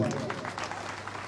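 An audience claps at a Congress-organised farmers' rally in Dumlav, Pardi, giving a brief patter of crowd applause with voices over it.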